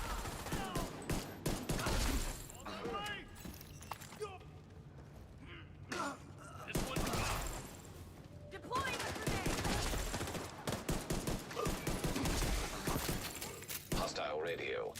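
Gunfire in The Division 2: repeated rifle bursts and scattered shots, some rapid and automatic, mixed with game effects while someone talks over much of it.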